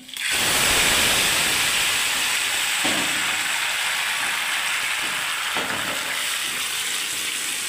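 Boiled mangoes for a mango chutney poured into hot oil in a pan, setting off a loud, dense sizzle that starts abruptly and hisses steadily throughout with a couple of small clatters.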